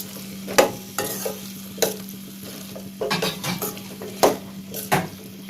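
Drumsticks and tomatoes stirred in a frying pan for Tamil kulambu, with repeated scraping spoon strokes against the pan over a continuous sizzle, close and fairly loud.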